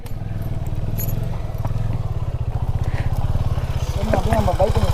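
A motorcycle engine idles and runs steadily with a low, even pulse throughout, close by, while people talk over it.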